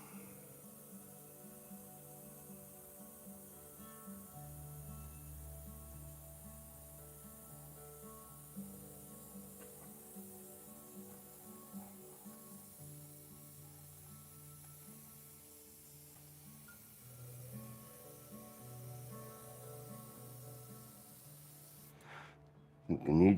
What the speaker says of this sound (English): So I'm spraying at 22 psi right now